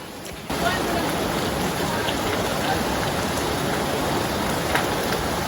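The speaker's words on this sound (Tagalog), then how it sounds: "Lakas yung ulan ngayon guys." Heavy rain pours down in a dense, steady hiss that starts abruptly and continues without a break.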